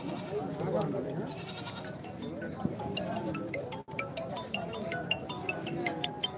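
Castrated male goats bleat intermittently amid a noisy gathering, with people talking nearby and occasional clinks in the background.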